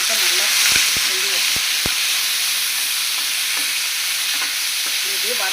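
Chopped ivy gourd sautéing with salt in a pan, a loud, steady hissing sizzle with a few brief spatula knocks early on.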